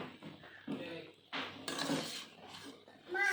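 Crispy Maggi Bingo snacks are stirred in a pan, with soft scrapes, rustles and light metallic clinks in irregular bursts, fairly faint, under intermittent talking.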